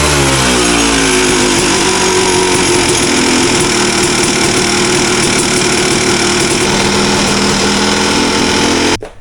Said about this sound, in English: Watch when I give it some gas.